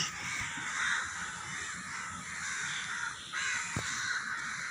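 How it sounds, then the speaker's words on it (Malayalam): A large flock of crows caws repeatedly from a moderate distance, many overlapping harsh calls forming a continuous chorus with no talking. "അവിടെയാണ് കൂടുതൽ കാക്കകൾ പറക്കുന്നത്"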